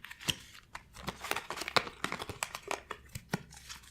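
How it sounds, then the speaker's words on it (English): A deck of tarot cards being shuffled, a quiet, close run of rapid papery flicks and riffles in irregular bursts. "Just shuffling the cards. A good shuffle."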